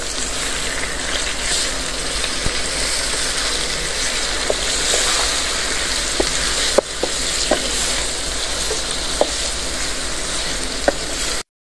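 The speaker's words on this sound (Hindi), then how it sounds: "चिकन को हम फ्राई कर लेंगे।" Chicken pieces sizzle steadily in a hot pan for a creamy chicken korma, with a dense hiss throughout and a few sharp clicks and knocks of stirring and utensils, no talking.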